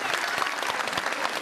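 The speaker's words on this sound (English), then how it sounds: "Applause for Nivedita, our ex-student." Audience applause at a school annual day function, steady dense clapping from a large crowd throughout, loud and continuous with no voices over it.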